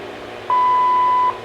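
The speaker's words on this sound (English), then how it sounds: "At the tone, 20 hours, 19 minutes, coordinated universal time." A steady electronic beep of a shortwave time-signal tone comes through an XHDATA D-808 receiver, one clear tone lasting under a second over a faint hiss of radio static.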